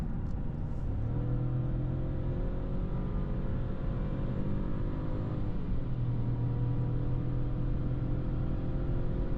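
Audi A1 Sportback 25 TFSI under full throttle, engine note rising steadily through the revs, with a gear change partway and then climbing again, heard from inside the cabin as a continuous droning hum.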